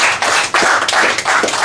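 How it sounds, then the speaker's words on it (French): Crowd applause for the sponsors at a football tournament in Cameroon, a brief, loud, steady wash of clapping close by. "nous devons applaudir pour tous nos sponsors"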